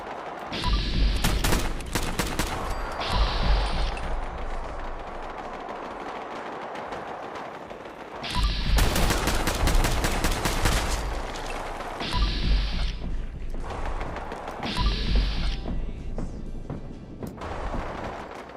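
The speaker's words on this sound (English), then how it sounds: "So they're all shooting at Heather and my companions that way" Gunfire from the VR game Fallout 4 comes in several bursts of rapid shots separated by calmer gaps, loud and close, with no talking.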